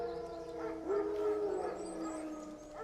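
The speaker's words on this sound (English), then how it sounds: "No. Wild dogs. Yes. More dangerous than wolves." Wild dogs howl in The Witcher 3: Wild Hunt, with long wavering tonal howls rising and falling over a steady game ambience, moderately loud and with no speech.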